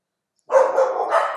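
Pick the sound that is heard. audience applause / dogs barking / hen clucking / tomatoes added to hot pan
dogs barking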